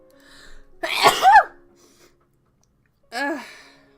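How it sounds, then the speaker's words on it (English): A single sharp sneeze bursts out close by, with a short wind-up breath before it and a brief vocal sound trailing after a pause. "I'm gonna sneeze."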